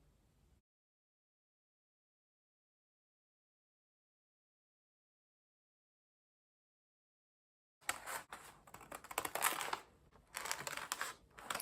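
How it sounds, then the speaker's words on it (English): Scissors cutting a fabric blouse with a scoop neckline: near-silence for several seconds, then steady, close crunching and rustling snips through the cloth with short pauses. "Now we are going to cut our blouse out."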